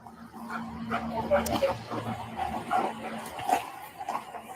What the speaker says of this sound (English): A Dutch Shepherd.